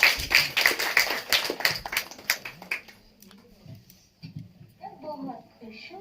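Brief applause for performers at a Diwali celebration, a burst of crisp overlapping claps that fades out within about three seconds, leaving quiet room sound and faint voices.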